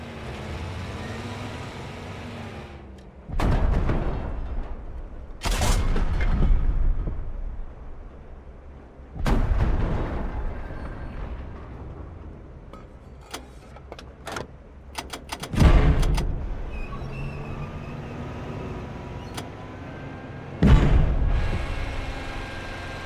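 WWII tank guns fire in Call to Arms: Panzer Elite, with about half a dozen heavy booms spaced irregularly over a low rumbling background, plus a few lighter cracks in between.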